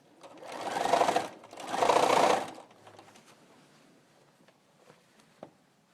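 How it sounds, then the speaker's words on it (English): A sewing machine stitches quilt binding in two loud, rapid whirring bursts of about a second each, followed by quieter fabric handling and faint clicks. "I'm going to sew from one corner to the next"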